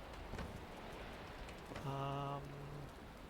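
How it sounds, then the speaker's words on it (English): Rain in the video game Valheim falls as a soft, even hiss throughout, briefly joined midway by a short tonal in-game chime, with no voice present. "Just because it's rain doesn't mean it's going to be a worthless day."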